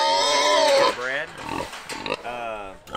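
Pigs grunting and oinking in a winter pen shared with chickens, several close grunts mixed in with someone talking over them throughout.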